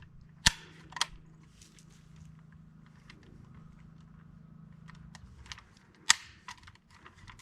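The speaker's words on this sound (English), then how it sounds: "Shooting, this is Red Army Standard" A PSA AK-74 rifle firing Polish Red Army Standard 5.45 ammunition gives a few sharp, loud cracks, two close together near the start and one later, separated by quiet outdoor background.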